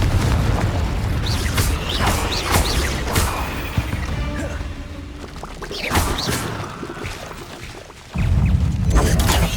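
Confringo, an explosive spell in Hogwarts Legacy, is cast in combat, giving several booming blasts and crashes with clattering debris and mechanical creaks, spaced irregularly over busy game ambience.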